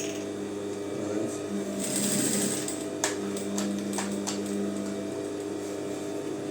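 A sewing machine reinforces a stitch on trousers with short close bursts of rapid mechanical whirring and a few sharp clicks, while a person talks over it.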